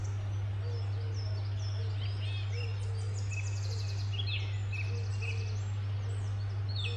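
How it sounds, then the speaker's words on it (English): Birds chirping and trilling outdoors beside a parked van, several quick overlapping calls, fairly faint over a steady low hum and background hiss, with no talk. "Can you hear the birds?"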